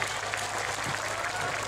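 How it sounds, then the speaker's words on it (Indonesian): Crowd applauds Ansor Ringin Rejo at an outdoor village Islamic gathering with steady, dense clapping and a voice talking over it. "Sekali lagi tepuk tangan untuk Ansor Ringin Rejo."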